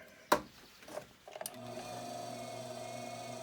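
A small sewing machine motor whirs to life after a couple of clicks, settling into a steady, even hum with a low tonal drone close by.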